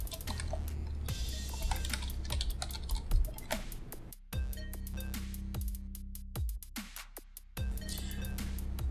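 Rapid, close clicking of keys on a computer keyboard as a command is typed into a terminal on an Ubuntu Server 14.04 machine, in uneven bursts with short pauses between them.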